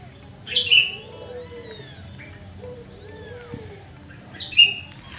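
A mother cat meows repeatedly while waiting for food, with several clear, rising meows spaced across a quiet indoor background and faint high chirps from birds.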